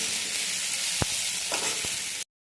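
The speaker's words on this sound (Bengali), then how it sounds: "এবার রান্না আলু পেঁয়াজগুলো একটু ভেজে ভেজে নিচ্ছি" Potatoes and onions frying in a pan sizzle with a soft, constant hiss, and a couple of light clicks from stirring come through before the sound cuts off abruptly.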